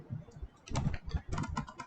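Python code is typed on a computer keyboard in short, quick clusters of keystrokes with brief pauses between, close and fairly quiet, with no talking.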